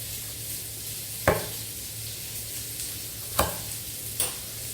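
Smoked sausage and onion frying in a non-stick brazier: a steady, quiet sizzle broken by a few sharp utensil scrapes and taps against the pan, close, with no talking.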